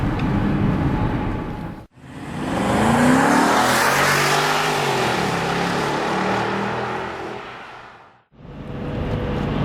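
A BMW X5 4.4i SUV engine, 315 horsepower, revs hard and climbs in pitch as it accelerates, with brief drops between gear changes, loud and close.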